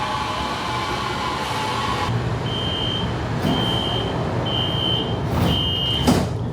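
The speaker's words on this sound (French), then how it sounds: "transport en commun en Malaisie, donc à Kuala Lumpur avec le LRT, donc un métro" A Kuala Lumpur LRT metro train rumbles steadily from inside the carriage, as a repeating electronic chime beeps several times, loud and close, with no talking.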